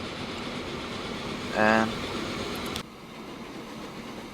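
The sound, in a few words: train running in video game Transport Fever 2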